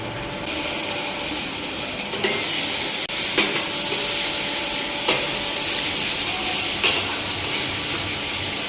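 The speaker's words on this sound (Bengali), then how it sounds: "ভালো করে ফ্রাই করতে হবে।" Chicken frying in a pan, a steady close sizzle punctuated by several sharp scraping stirs of a spatula at irregular intervals.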